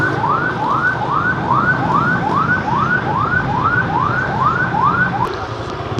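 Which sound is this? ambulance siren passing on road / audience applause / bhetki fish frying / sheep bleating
ambulance siren passing on road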